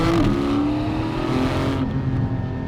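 A Porsche 718 GT4 with PDK gearbox in Sport mode and sport exhaust on accelerates hard, engine note climbing through a quick upshift, loud and close from inside the car.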